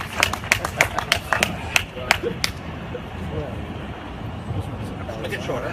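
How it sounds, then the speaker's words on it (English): Scattered hand clapping from an audience at a company farewell party, a burst of separate claps in the first two and a half seconds that fades into crowd murmur and background noise. "Please put your hands together and give a big applause to welcome him."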